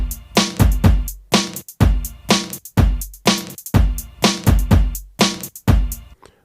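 A full electronic drum beat: a sampled kick stab, a stock Ableton snare and an 808 hi-hat, with some triplet figures. The hits land in a steady, punchy loop, loud and close, with no talking.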